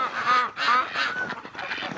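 Ducks call outdoors on a winter day in a run of several loud, close, honking quacks in quick succession, with no talking.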